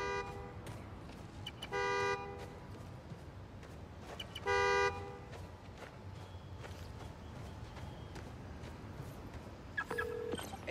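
Car alarm honking in Spider-Man: Miles Morales, a couple of loud blaring horn blasts at intervals with a shorter beep near the end, over quiet city ambience and light footsteps.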